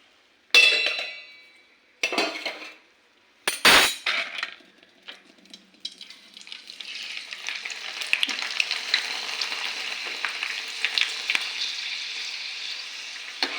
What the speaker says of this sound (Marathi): हे असे तळून घ्यायचे.